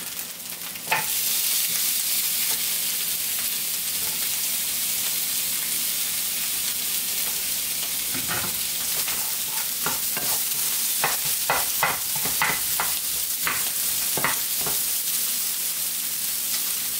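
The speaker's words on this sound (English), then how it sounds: "Now we're gonna add our onions." Onions sizzle and fry with soyrizo in a hot pan: a steady, loud hiss throughout, broken by repeated scraping stirs and clicks of a utensil, with no talking.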